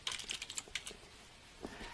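Quick bursts of keystrokes on a computer keyboard during spreadsheet data entry, soft and close with brief pauses, alone without talk.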